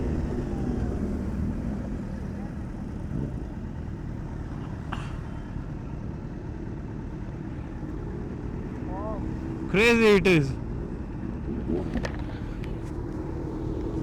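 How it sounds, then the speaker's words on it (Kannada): A Kawasaki Z900 motorcycle with a full-system exhaust idles and rumbles steadily at night, a low continuous drone with a brief rise near the end, while people talk over it. "ಇದೆ ನಮ್ಮ ಕ್ಯಾಡಿದು ಬೈಕು ಫುಲ್ ಸಿಸ್ಟಮ್ ಎಕ್ಸಾಸ್ಟ್ ಇದೆ"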